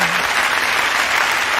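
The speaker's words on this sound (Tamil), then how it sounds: "உங்க பாராட்டுக்களை கைத்தட்டல் மூலமா வெளிப்படுத்தலாமே" An audience claps steadily and loudly throughout, a dense wash of many hands with no voices over it, ending abruptly.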